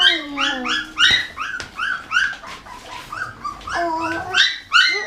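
Several puppies whimper and cry in high, wavering yips and whines at feeding time, overlapping in close succession with short pauses between bursts, fairly loud and near, with no talking.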